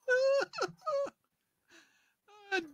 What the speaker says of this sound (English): Darn that dirty dog.